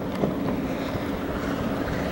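A 1998 Sea Ray 250 Sundancer runs wide open at full throttle across a fairway, giving a steady, dense rush of engine drone, hull noise and wind buffeting on the microphone throughout, with no voices.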